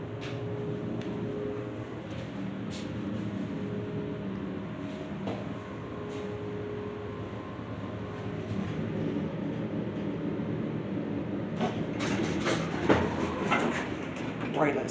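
An old Otis hydraulic elevator motor at Macy's in Exton Square Mall hums low and steady for the whole stretch, with faint clicks and a few clunks building toward the end, while people talk quietly at times.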